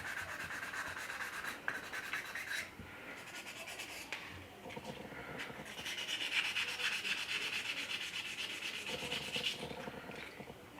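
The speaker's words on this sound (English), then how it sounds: "It's just tons and tons of sanding." Sandpaper is rubbed by hand over a quarter-scale Xionart Spiderman sculpture, giving soft, uneven scratching strokes that come and go, close and quiet.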